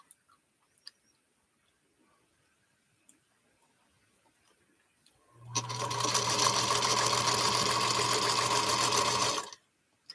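A sewing machine stitching army camouflage fabric cut up for a quilt, running in one steady, loud continuous burst for about four seconds after near silence with faint clicks.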